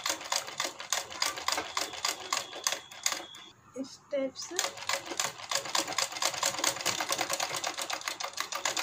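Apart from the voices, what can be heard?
sewing machine stitching a blouse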